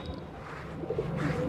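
Soft, low cooing from a pigeon of a feather-footed breed with plumage down to its toes, a few murmuring coos close by over a faint background hum, with no talking.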